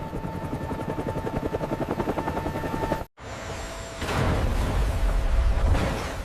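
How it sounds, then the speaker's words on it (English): A CH-53K King Stallion heavy-lift helicopter: a loud, rhythmic rotor thump beats steadily, cuts off in a brief gap, then gives way to a broader, rising turbine roar that swells toward the end. "World's most powerful helicopter, born in this very factory."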